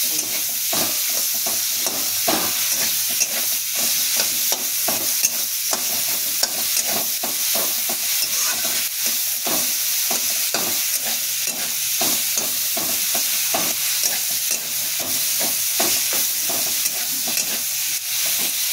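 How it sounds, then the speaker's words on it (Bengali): Potatoes and cauliflower fry lightly in a pan, a continuous close sizzle broken by frequent rhythmic scraping and tossing strokes of a spatula, with no one speaking. "আলু ফুলকপি তারপরে ছেড়ে দেবো। হালকা করে ভেজে দেবো, বেশি ভাজবে না।"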